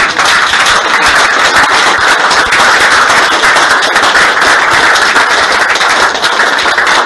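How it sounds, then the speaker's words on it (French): Loud, dense applause from a church congregation, continuous rapid clapping filling the room without pause, close and intense from start to finish. "applaudissons pour notre Seigneur"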